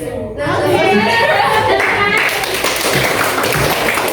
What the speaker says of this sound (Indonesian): Tangan, siku, pundak, tepuk siku, tepuk pundak, tepuk tangan